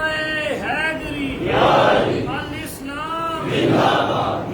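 A large crowd at a religious gathering about Karbala chants Islamic slogans in unison, two loud swelling responses with harmonic voiced shouts rising and falling, alone without a solo speaker.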